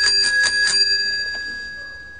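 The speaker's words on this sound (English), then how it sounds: "Look, the bell works and everything." A tricycle bell rings in four quick bright dings close by, then one fainter ding rings out alone as the tone fades.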